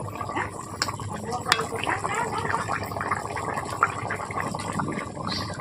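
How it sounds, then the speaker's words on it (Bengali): Fish curry (macher jhol) with silver cup fish boiling in a wok, a soft continuous bubbling and simmering with occasional small pops and clinks, close and fairly quiet. "দেখতেই পাচ্ছেন ঝোলটা কেমন ভাবে ফুটছে।"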